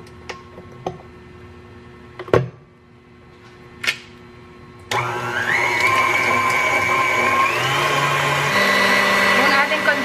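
An electric hand mixer whirs into chilled all-purpose cream in a mixing bowl, starting after a few sharp clicks and knocks, then running as a continuous close whine with shifting pitch.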